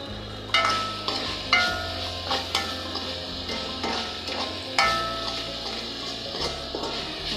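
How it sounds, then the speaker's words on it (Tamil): Fennel seeds being sautéed in a pan: a steady close sizzle runs throughout, broken by several sharp scrapes and clinks of a spatula against the metal, with no talking. "போட்டுட்டு நல்லா வதக்கணும்."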